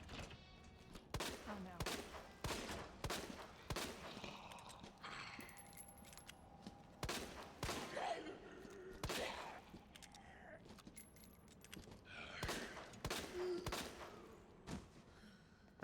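Pistol gunfire in Resident Evil 2 Remake, sharp sharp reports fired in irregular bursts and single shots, loud and close, with a brief spoken exclamation among them.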